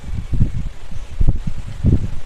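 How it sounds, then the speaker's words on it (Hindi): Gusts of a pleasant outdoor breeze buffet the microphone in uneven low rumbling bursts that rise and fall several times over a couple of seconds. "वाह, कितनी प्यारी हवा चल रही है"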